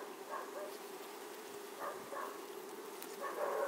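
Honey bees buzz at a hive as young bees emerge, a faint, steady hum with soft buzzing swells close by.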